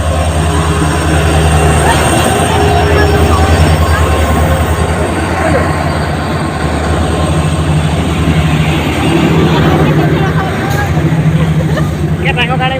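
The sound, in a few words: train at a railway station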